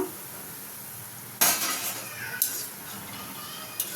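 Cabbage pakoda frying in oil under a soft steady sizzle, with a sharp metallic clank of a ladle against the pan and a couple of lighter knocks as the fritters are lifted out.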